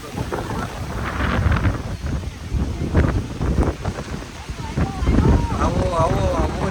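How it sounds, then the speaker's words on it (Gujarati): Wind gusting strongly outdoors at a village outing, roaring and buffeting against the microphone in uneven surges throughout, with people talking and exclaiming over it. "પણ પવન કેટલો મસ્ત આવ્યો."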